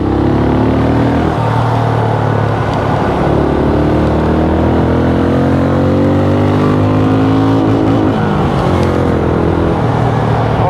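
A Benelli Imperiale 400 motorcycle accelerating through its gears on a test ride, loud and close, with the engine note rising, dropping at each shift and climbing again over strong wind rumble.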